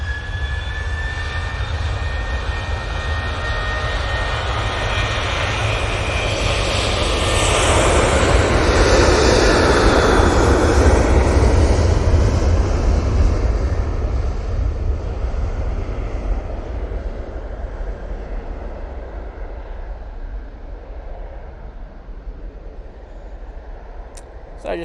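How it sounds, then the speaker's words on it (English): An Etihad Boeing 787-10 Dreamliner passes near Manchester Airport, its jet engines swelling to a peak midway and then fading out in a long smooth wash, with no talk heard. "It is the Etihad 787-10 Dreamliner in the iconic Warner Brothers livery."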